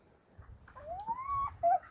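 Dog whimpering outdoors in the wind, a single thin rising whine followed by a short high yelp, faint and close, over low wind rumble.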